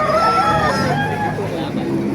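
A rooster crows close by at a chicken market in Baliuag, Bulacan, over a murmur of background chatter and other fowl, its drawn-out call running through most of the moment.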